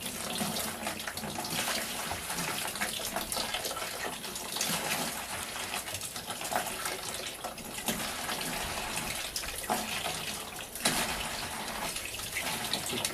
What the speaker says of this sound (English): So you can see I'm already getting water just from one pump.